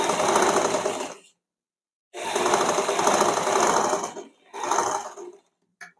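A sewing machine runs in three close bursts while stitching the tucks on the front panel of a blouse, a loud rapid mechanical whirr in stretches of about one to two seconds separated by short silent pauses.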